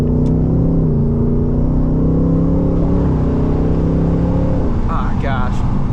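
A Shelby Super Snake driving onto a freeway gives a loud, steady engine drone with a shifting pitch that dips near the end, and voices talk over it throughout.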